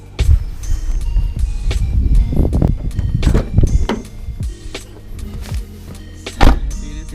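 A company car's power windows whir and its door thunks shut in a few separate bursts, close and fairly loud with quiet gaps between, no talking.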